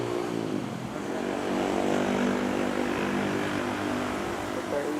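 A Philippine Air Force C-130 propeller plane at Manila airport gives a steady, loud engine drone throughout, with talk and radio chatter running underneath.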